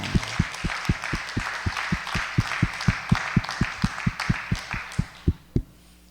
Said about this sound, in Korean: 송미 박수 한번 주세요.